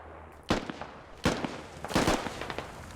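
Distant gunshots crack through a battle in the video game MARS: Scarlet Storm Rising, three sharp reports and a short ragged burst spaced over a few seconds, fairly loud and with no voices over them.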